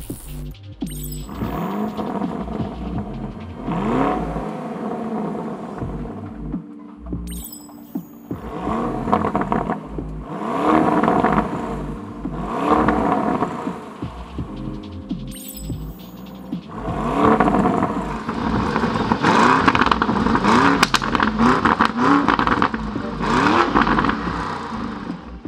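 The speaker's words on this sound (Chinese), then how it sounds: "我们来启动它的引擎，就发动引擎" Lamborghini Urus engine revving hard in Corsa mode with the exhaust valves open, a deep throbbing roar rising in repeated surges, each blip cut by a brief pause, loud and close with no talk.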